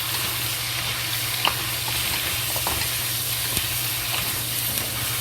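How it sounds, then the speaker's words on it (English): Star anise fries with pork ribs in a pan, giving a steady, moderate sizzle and hiss with a few faint clinks of stirring. "Add 2 star anise into it and fry it."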